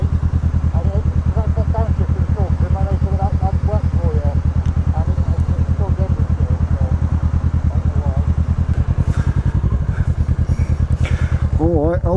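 A Zontes Mantis 125 motorcycle idles nearby with a steady, rapid, even engine pulse throughout, loud and close, while people talk over it.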